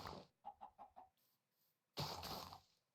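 Chickens in a block-building video game give a quick run of four short clucks, then a louder squawking burst a moment later, fairly faint and with no talk over them.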